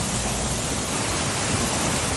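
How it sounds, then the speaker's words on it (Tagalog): Heavy rain and hail pour down in Baguio City as a steady, dense, loud roar of broadband noise with no breaks and no voices. "Bumuhos ang malakas na ulan pasado alauna kaninang hapon sa Baguio City."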